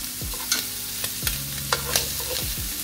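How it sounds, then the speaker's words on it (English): Tomatoes cook down in a pan with salmon and shrimp, giving a steady low sizzle with several sharp scraping stir strokes spaced about half a second apart, close and moderately loud, with no talking. "I'm just cooking down the tomatoes"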